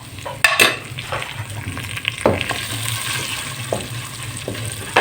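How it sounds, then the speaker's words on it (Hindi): Whole spices (star anise, white cumin and black peppercorns) fry in ghee and oil in a pan, with close crackling sizzle and a few sharp pops and scrapes of stirring, no voices. "इसको थोड़ा सा घी में, ऑयल में इस तरह थोड़ा सा ब्राउन करेंगे इसको, ये जो है भूनेंगे थोड़ा सा"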